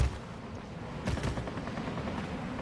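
Aircraft guns firing at a Spitfire in the World of Warplanes video game, a dense rattling burst of rapid gunfire over a continuous engine roar, loud and close, with no talking.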